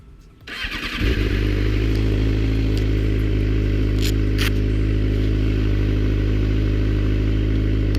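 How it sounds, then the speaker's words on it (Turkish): A motorcycle engine starts about a second in, after a short cranking burst, then settles into a steady, loud, close idle that runs without pause, with a few light clicks and clatter on top; no one speaks. "Motoru da çalıştıralım."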